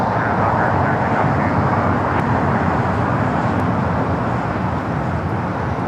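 A jet airliner takes off from runway 25 right at Los Angeles International Airport, a loud, steady engine roar with broadband rumble that holds without fading, and no talking.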